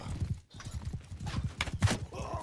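Horse hooves clip-clop in a rapid, busy rhythm in the Native game, mid-loud and close, with faint game noise in the background.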